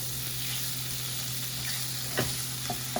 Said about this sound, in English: we're gonna throw the cream in there, and it's gonna reduce